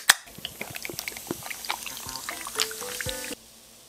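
Pineapple juice pours into a glass for a toast, a close, irregular splashing trickle with a sharp clink at the start. It runs for about three seconds and stops abruptly, with no talk over it.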